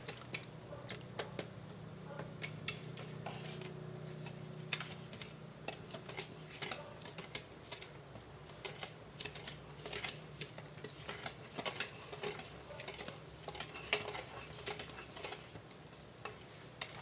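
Wet ingredients being stirred into dry ingredients for a brigadeiro chocolate cake batter: a steady run of soft, squelchy strokes and light clicks against the bowl, quiet and close, with no talking.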